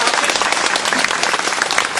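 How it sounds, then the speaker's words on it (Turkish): Loud, dense applause fills a lecture hall audience, a steady unbroken wash of many hands clapping at close range for the full couple of seconds. "Diğer bir alkış."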